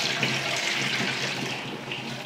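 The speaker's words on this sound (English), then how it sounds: "Of course, I'm spilling it all over the floor" Water pours from a measuring cup into a container, splashing and spilling onto the floor, making a steady, close rushing splash that runs through the whole stretch.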